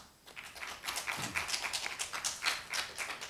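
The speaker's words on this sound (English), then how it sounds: "Please welcome Mr. Marcel with a round of applause" Audience at a fall new student convocation clapping, a thin scattering of distinct, fairly quiet claps rather than a full ovation, beginning after a brief silent moment.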